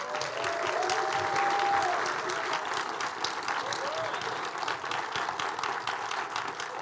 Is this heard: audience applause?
yes